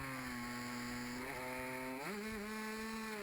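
A 125cc two-stroke racing motorcycle on a track, its engine droning in a high buzzing tone that drops and then climbs sharply as the gears change, loud and steady with no voices.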